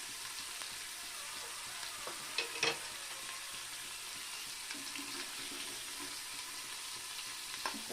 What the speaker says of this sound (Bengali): তেলে একটু হলুদ লবণ দিয়ে একটু কাঁকড়াটাকে ভেজে নেব